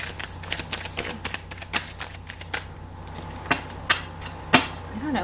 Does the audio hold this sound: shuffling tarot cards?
yes